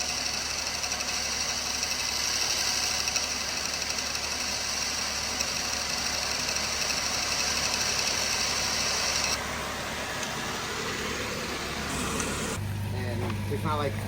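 A bus engine idling with a rough, skipping misfire that comes and goes, running steadily under light background noise with a change in tone partway through and a low hum near the end.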